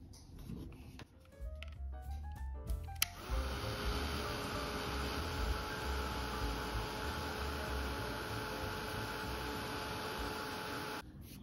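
A heat tool starts with a click and then blows steadily to dry artwork, a continuous close whirring drone that holds evenly for about eight seconds before cutting off.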